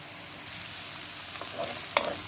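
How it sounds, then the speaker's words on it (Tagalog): Garlic and ginger hitting a hot pan with onions, a steady close frying hiss topped by a few sharp crackles and a stirring scrape, with no voices heard. "Ayan guys, isunod ko yung bawang at saka yung luya."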